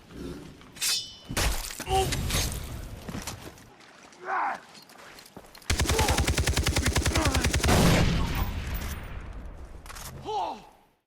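Gunfire and explosions burst out in the video game Far Cry 3: scattered sharp blasts and shattering crashes, then a long rapid automatic volley, with trailing debris and quieter impacts.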